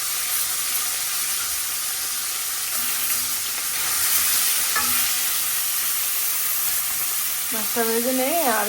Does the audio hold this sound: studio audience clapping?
no